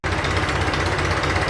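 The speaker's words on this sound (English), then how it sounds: "it's running and idling pretty healthy here" A 1966 John Deere tractor engine idles steadily after its carburetor work, a continuous low, throbbing rumble held close and loud with an even rhythm and no voices.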